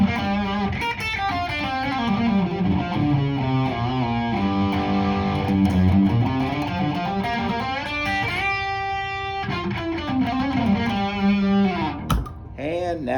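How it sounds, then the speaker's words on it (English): Electric guitar played through an MXR overdrive pedal, the second drive setting, giving a steady saturated tone with sustained chords and melodic notes, loud and continuous with a brief dip near the end. "here's the second drive"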